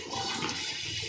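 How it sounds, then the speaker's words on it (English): Rice tossed by hand into a pan of boiling liquid with cooked chicken, for spicy Thai basil chicken fried rice, gives a brief, steady rush of splashing and bubbling water. "So we'll go ahead and toss the rice in."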